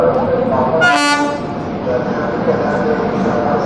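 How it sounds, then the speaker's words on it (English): A passenger train pulls into an Indian railway station, its horn sounding one loud, sustained toot over the steady rumble of the moving coaches and the station crowd. "finally my train has arrived. You can see the train."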